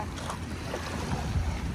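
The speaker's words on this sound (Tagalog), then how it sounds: "Banayad lang yung yung alon at saka yung hangin." Wind rumbles steadily across the microphone at Manila Bay's Dolomite Beach, with low, gentle waves washing underneath in a continuous, fairly loud outdoor wash.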